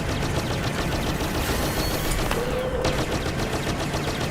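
Rapid blaster gunfire crackles through a Star Wars Legion tank battle at Geonosis, a loud, continuous stream of shots with no break and no voices.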